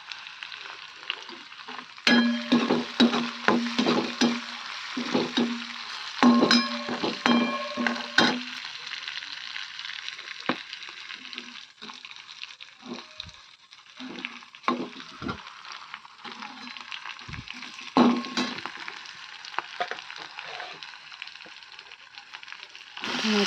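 Garlic and chili sizzle in hot oil in a pan, a steady crackling fry with bursts of louder spattering and stirring clatter throughout, close and fairly loud, no voices.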